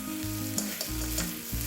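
Washed rice and lentils sizzle in half a tablespoon of hot ghee inside a pressure cooker while making ven pongal. The frying is steady and close, with faint stirring scrapes throughout and no voices.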